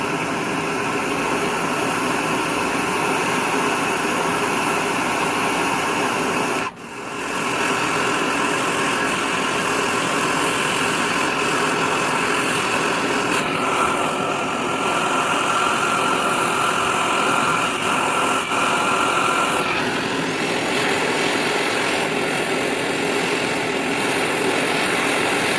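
Torch heating a stuck ball joint on a VW bus: a steady, loud roaring hiss that runs throughout, close up, with one brief dip partway through and no talk.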